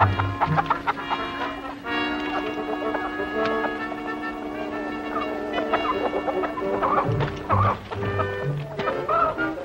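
Chickens cluck and a rooster calls in a barnyard, the bird sounds rising and falling amid steady background noise, with brief bursts of clucking clearly audible near the end.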